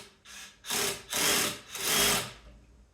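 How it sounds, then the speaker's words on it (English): A power drill drives long screws into poly lumber while a rocking chair is assembled, with three or four close, loud bursts of whirring and grinding separated by brief pauses. "You can also use a 5/32 bit in your drill, and then that'll make it a little bit easier."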